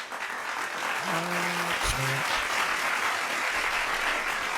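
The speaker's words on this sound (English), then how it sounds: "let me give y'all a round of applause" Applause rolls on steadily and fills the whole clip, while someone briefly speaks over it near the start.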